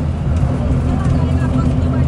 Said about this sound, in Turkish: Abi sonunda otobüs kalkış yaptı.